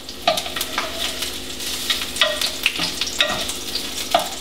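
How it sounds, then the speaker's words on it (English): Thyme and garlic fry in hot oil in a pan, a steady bright sizzle broken by several sharp stirring scrapes and clicks, close and fairly loud, with no talking. "We're gonna add the thyme and let it heat through. Gonna add the garlic."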